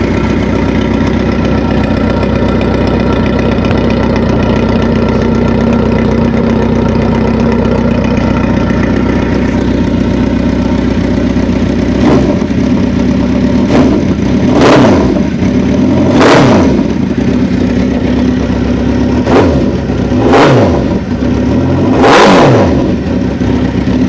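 A 2003 first-generation Kawasaki Z1000 motorcycle with a modified exhaust idles loud and low with a steady throaty rumble, then is revved five or six times in sharp rising and falling bursts, close up.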